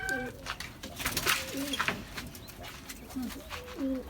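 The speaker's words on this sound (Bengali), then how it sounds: "সব মিলে নয়টা কোয়েল পাখি থাকলো এখানে" Bird calls from a rooftop farm with quail, several repeated short calls near and moderately loud among light rustling and background noise.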